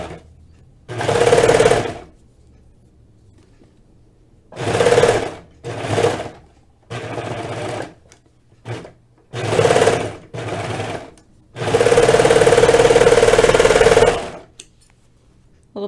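A serger overlocks a sweater seam in loud, steady whirring bursts, several short runs and one longer one of about three seconds, separated by quiet pauses with no talking.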